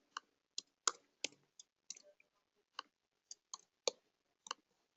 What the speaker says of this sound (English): let me just type it over here